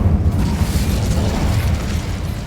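The Incendio fire spell bursts in the Hogwarts Legacy video game, a loud, close, rumbling blast of flame that roars on steadily rather than fading quickly.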